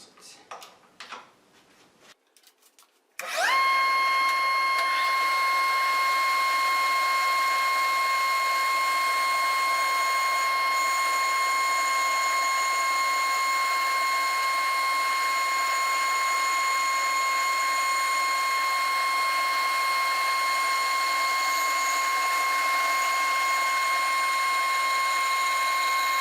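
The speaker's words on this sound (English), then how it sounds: "So now I'm cutting a board 10 thousandths inch thick." A band saw fitted with Accu-Slice table extensions resaws a wide board into a thin slice, a steady loud whine with bright sustained tones running unbroken for over twenty seconds after a short quieter start.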